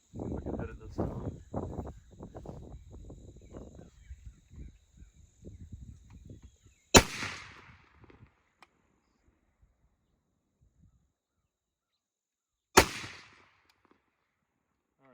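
Two loud, sharp gunshots from a Springfield M1A Tanker rifle fired outdoors, spaced about six seconds apart, each with a short ringing decay; talking and insect chirps come before the first shot.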